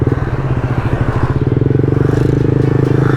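A group of touring motorcycles on a village road after Lebaran rumbles past close by, a steady pulsing engine drone that stays loud through the whole clip, with a faint voice underneath.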